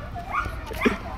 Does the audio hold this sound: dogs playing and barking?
yes